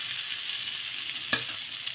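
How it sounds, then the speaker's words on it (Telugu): Batter made from sorghum flour and gram flour sizzles steadily on a hot oiled pan, a continuous close hiss with one brief sharper crackle near the middle. "ఇప్పుడు ఇలా ఒక గరిటె పిండి అనేది వేసుకొని ఇలా కొంచెం ఈ విధంగా స్ప్రెడ్ చేసేసుకోవాలి"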